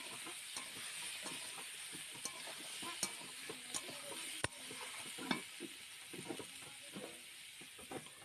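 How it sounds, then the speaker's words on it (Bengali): Vegetables with turmeric and salt sauté in oil under a lid, producing a faint, steady sizzle with scattered soft clicks and taps of stirring, quiet and close. "হলুদ ও লবণ দিয়ে কিছুক্ষণ ঢাকনা দিয়ে সবজিগুলোকে সুন্দর করে কষে নেব"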